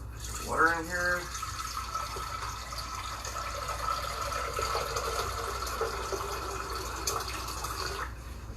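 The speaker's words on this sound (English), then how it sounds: "Some water in here." Water poured into a cooking pot holding rice, onion, mushroom and peas, a steady filling hiss and trickle running for several seconds in a kitchen, with a brief voice near the start.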